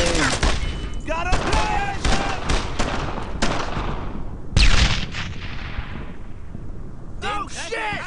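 A grenade explodes in a heavy, booming burst midway through a loud World War II firefight in Brothers in Arms: Road to Hill 30. Rapid rifle and machine-gun fire crackles before and after the blast.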